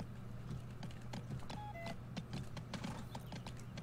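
Horse hooves clip-clop in the Go Vacation video game on a mountain course, a steady run of quick hoof taps over a constant low game hum, with a few brief electronic tones partway through.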